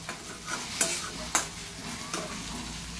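Onion dry-roasting in a pan while being stirred, a soft steady sizzle broken by a few sharp scraping clicks of the spoon against the metal, close up and fairly quiet, with no voices.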